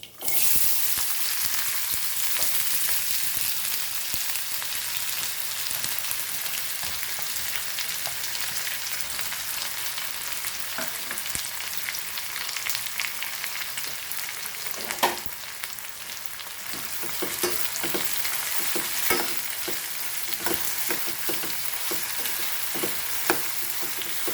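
Curry leaves and onion hiss and sputter in hot oil in a pan, a steady, dense sizzle that runs unbroken throughout, with occasional louder pops and crackles.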